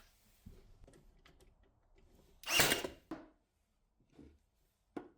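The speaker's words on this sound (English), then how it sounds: "This brad nailer, amazing." A brad nailer fires into a wooden box, one loud sharp pneumatic burst standing out among quiet workshop clicks and handling noises.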